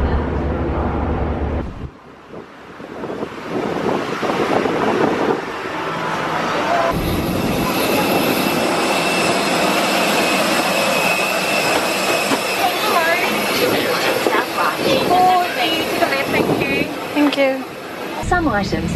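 A passenger jet's engines roar steadily inside the cabin as a loud broadband drone with wind-like rush. People talk over it, and the noise drops out near the start and again at the very end.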